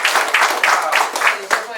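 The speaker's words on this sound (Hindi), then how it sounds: "प्लीज लास्ट है, पर जोरदार ताली।" Audience at a marketing and township plan program in Agartala, Tripura claps in a rhythmic series of bursts, several beats in under two seconds, loud and close.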